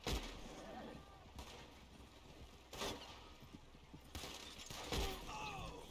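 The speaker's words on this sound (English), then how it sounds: "I better start shooting." Gunfire in the video game Red Dead Online during a wagon chase, a few sharp shots spaced a second or more apart over a steady rumbling background, fairly faint, with no talking over it.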